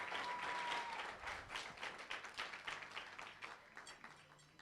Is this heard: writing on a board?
no